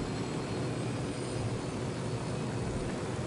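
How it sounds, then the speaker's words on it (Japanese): Steady, droning helicopter engine noise in a video game, Ghost Recon Wildlands, fills the whole stretch, a constant rumbling roar with no talk over it. "いつ何時もヘリ乗ってるけど、ヘリどんだけ持ってんの。"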